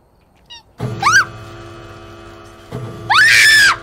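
A ghost in the video game Phasmophobia lets out two loud, shrill screams that rise and fall, separated by a rumbling pause, with a soft thud before the first.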